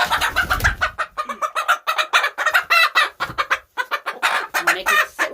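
A broody backyard hen clucks loudly and insistently up close, a rapid series of harsh, rhythmic squawking calls with brief pauses between bursts.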